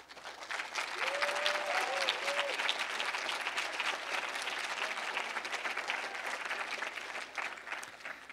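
Audience at a startup demo day giving mentors a big, sustained round of applause, dense steady clapping that fills the room for several seconds, with a brief voice or whoop near the start.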